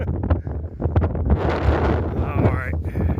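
Strong wind gusts on a mountain trail during an Appalachian Trail thru-hike, a steady, loud rushing roar that batters the microphone with buffeting, and someone talks over it.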